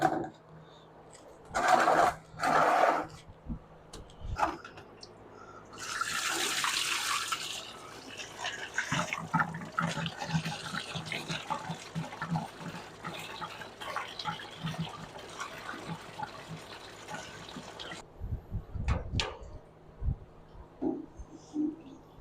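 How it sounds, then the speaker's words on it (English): Radiator fluid drains from the lower radiator hose of a Firebird into a catch pan during a 3-row aluminum radiator swap, a steady watery trickle and splash running for most of the stretch amid clinks of tools and brief handling noises. "Put a pan underneath there to catch all that radiator fluid that comes out."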